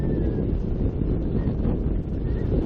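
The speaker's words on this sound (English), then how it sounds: "listen to that wind scream through the rigging and into the microphone" Strong, steady wind roaring through a boat's rigging and buffeting a microphone, with a faint whistling tone over the rumble, no talk.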